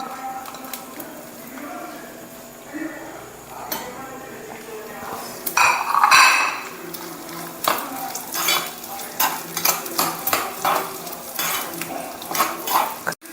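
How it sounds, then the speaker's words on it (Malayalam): Grated coconut fries and crackles in hot oil for jackfruit payasam while a spoon scrapes and stirs against the pan, with louder bursts of sizzling midway and a voice talking over the cooking. "അപ്പം നാളികേരം ഇങ്ങനെ അത്യാവശ്യം മൂത്തിട്ടുണ്ട്."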